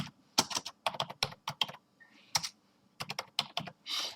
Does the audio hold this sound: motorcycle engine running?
no